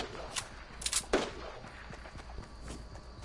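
Fortnite gunfire, with a shotgun in play, comes as a few sharp separate shots fired in quick succession over a steady background of game ambience, moderately loud and close.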